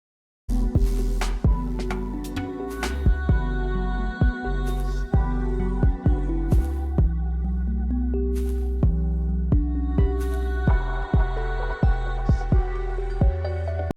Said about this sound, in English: that little shaker sound that's in there